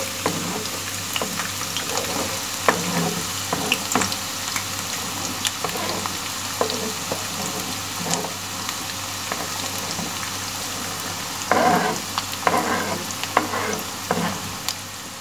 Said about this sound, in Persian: پیازها رو کف مایتابه پخش میکنیم تا همه پیازها به صورت یک نواخت توی روغن قرار بگیره.